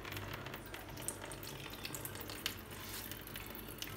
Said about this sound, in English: As you can see, the juice is pouring nicely.